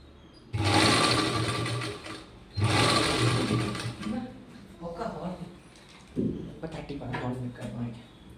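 A sewing machine stitching in bursts: two long loud runs of rapid mechanical chatter, then shorter stop-start stitching, with pauses between, recorded close in a quiet room.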